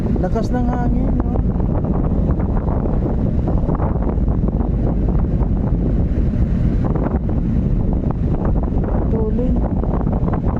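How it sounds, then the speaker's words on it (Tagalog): Strong gusting wind buffets the microphone by the water, a loud, constant low roar with rumbling bursts, and a few brief voices faintly audible underneath. "Lakas ng hangin, no?"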